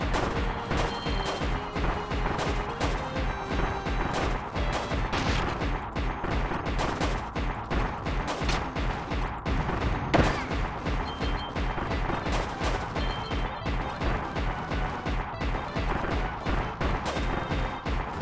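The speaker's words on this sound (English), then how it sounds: "It's like a firework cannon." A firework cannon in Kirby's Return to Dream Land Deluxe fires rapid, dense bursts of crackling explosions nonstop, with chiming game tones mixed in.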